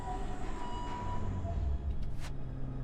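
Tram pulling in within the video game Abiotic Factor, a steady low rumble of rail wheels and machinery with a faint hiss and brief squeals near the end, heard alone without talk.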